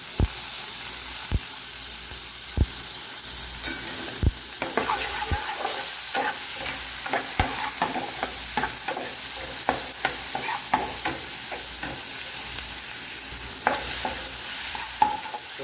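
Tomato and pepper fry in a pan, a continuous near sizzle broken by repeated sharp knocks and scrapes of stirring against the pan, with no talking.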